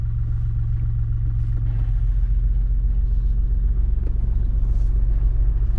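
Car engine rumbling steadily as a learner driver releases the clutch and moves off, a loud, close, continuous low drone with no speech.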